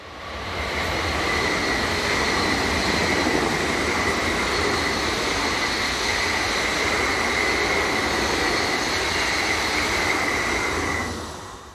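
Trains run past on a railway line, probably Swiss or German electric Class 421 locomotives hauling EuroCity coaches, giving a loud, steady rolling roar with high wheel whine for about ten seconds before it fades.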